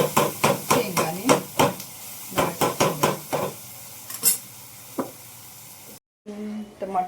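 Tomatoes with salt and masala are stirred in a pan, a run of rapid metallic spoon scrapes and clanks in quick bursts over a faint sizzle, close and clear, with a brief pause and a voice at the end.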